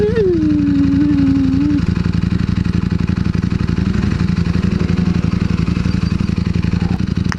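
A Yamaha R6 sport bike's engine revs up then drops while riding, a loud, close buzzing whine that falls away after a couple of seconds into a steady rattly engine drone.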